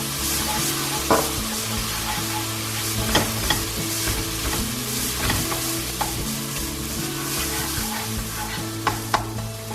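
Turmeric, coriander, garam masala, cumin and ginger garlic paste are stirred in a hot pan, with steady sizzling and repeated scraping clinks of the spoon close by.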